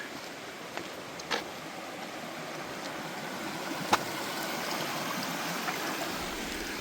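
A woodland stream flows with a steady broadband rush and gentle trickling, with a few faint knocks over the top and no talking.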